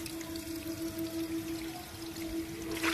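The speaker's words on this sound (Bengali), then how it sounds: "এই জলটা এখানে একটু ফেলে দেব।" Rinse water from washed pigeon feed is poured out: a faint, soft, steady trickle and splash, close by and with no talking, growing a little louder near the end.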